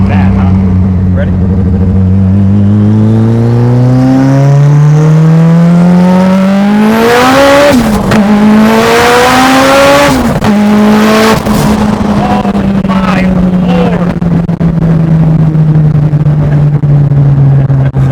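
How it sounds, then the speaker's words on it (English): A 943hp Mitsubishi Evo 9 revs hard while its wheels spin, the engine climbing to a loud peak, dropping, then holding a steady high drone close by, with people talking over it. "And the wheels are spinning."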